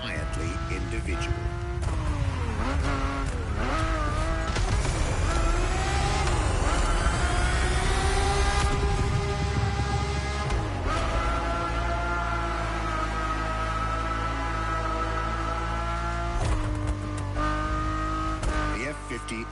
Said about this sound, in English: The F50's core is a normally aspirated V12 that came straight from a Formula One.